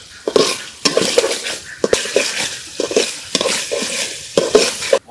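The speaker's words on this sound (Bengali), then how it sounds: "মশলাটা ভালোভাবে কষাই নিতে হবে" Spice paste for chicken curry fries and is stirred in a pan: loud clattering scrapes of a spoon against the metal come in bursts over a bright, close sizzle, with a few sharp knocks between strokes.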